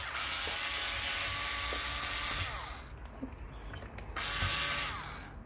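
Repeated ratcheting clicks from a screwdriver backing Phillips screws out of the underside of a Lenovo ThinkPad E480 laptop, steady and close for nearly three seconds, then a short pause with light handling before the clicking resumes.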